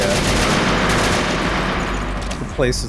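Rapid, sustained AK rifle fire in a video game rattles loud and dense throughout, with a brief voice breaking through near the end.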